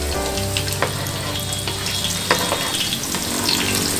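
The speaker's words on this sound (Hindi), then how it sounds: "प्याज को अच्छे से गोल्डन ब्राउन कलर आने तक हमें फ्राई करना है।" Onions fry in hot oil with cinnamon, bay leaf and green cardamom, a steady close sizzle with faint stirring scrapes throughout.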